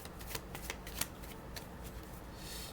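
Tarot cards are shuffled by hand in quick riffling bursts with soft slaps and flutters, close but quiet, with no talk during the shuffling.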